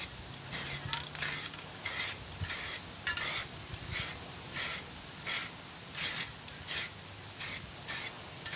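A spray paint can lays a heavier coat onto a car wheel rim in a steady series of short hissing bursts, roughly a dozen close, evenly spaced pulses with brief pauses between them and no talking.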